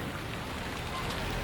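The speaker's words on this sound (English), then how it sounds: "Playing in the rain." Rain falling outdoors near Toluca, Mexico, a steady, fairly loud hiss of broadband spatter that stays even throughout, with no one talking.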